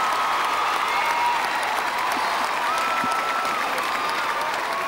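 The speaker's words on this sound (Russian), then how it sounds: "Ну что ж, аплодисменты Владу." Large arena audience at the Junior Eurovision Song Contest 2005 in Hasselt, Belgium applauding a Cirque du Soleil performer, Vlad, a dense, continuous roar of clapping with faint tonal background under it.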